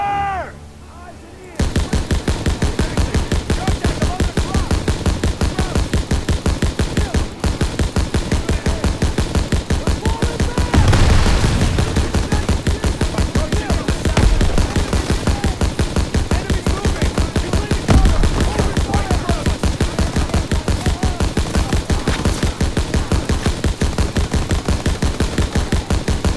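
An M1919 .30 cal machine gun in Call of Duty WW2 rattles off long, steady bursts of rapid fire, loud and close, with a few heavier blasts mixed in and speech faintly underneath.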